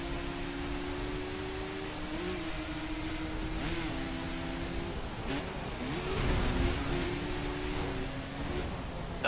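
A car engine in The Crew racing game holds a steady mid-pitched drone, with a few brief shifts in revs and a slight swell near the end, under a constant wash of road noise.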